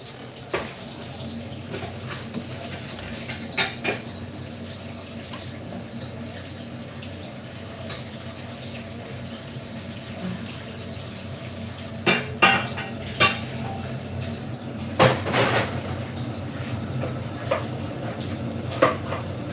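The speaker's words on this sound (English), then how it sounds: "I need to wash as I go along." Dishes and cutlery being washed in a home kitchen during Christmas cooking prep, with steady running water from the tap and scattered sharp clinks and clatters of plates and silverware, louder bursts toward the end.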